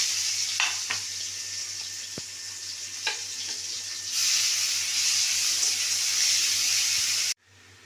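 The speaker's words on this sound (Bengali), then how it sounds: "এবার কড়াই যে তেলটা আছে তার মধ্যে আমি পেঁয়াজগুলো দিয়ে দেবো" Onions frying in hot oil in a kadai, a steady close sizzle with a few stirring clinks, growing louder partway through before cutting off abruptly.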